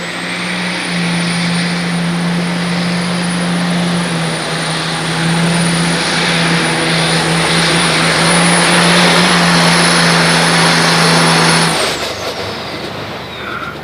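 A 1996 Dodge 12-valve diesel truck roars steadily through a pulling run, a loud sustained low drone with a high whine on top that holds for about twelve seconds before cutting off abruptly.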